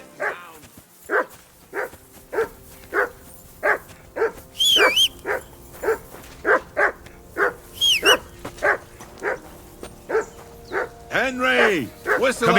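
Repeated dog barks from a dog in the medieval video game Kingdom Come Deliverance II, about twenty sharp, evenly spaced woofs over a steady backdrop, with game characters talking and a whistle heard among them.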